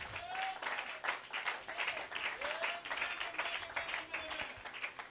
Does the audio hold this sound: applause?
yes